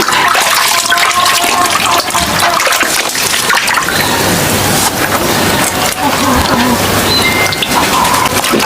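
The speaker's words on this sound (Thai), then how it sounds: "เราก็จะฟักไส้มันออก มันขม ลงไปในน้ำแล้วก็ล้าง" Palm fruit flesh being washed in water, with continuous splashing and sloshing that stays loud and steady throughout, close by and without talk.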